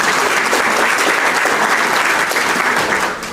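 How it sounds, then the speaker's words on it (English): A large education gathering bursts into loud, sustained applause, thick continuous clapping that holds steady and fades slightly at the close. "Umkati a big round of applause."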